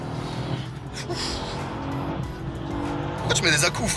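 A Mercedes S63 launching hard, with engine roar and tire squeal building to a louder burst near the end, all under ongoing conversation inside the car.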